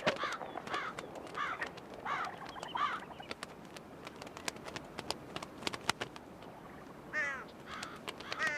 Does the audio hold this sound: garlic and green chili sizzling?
no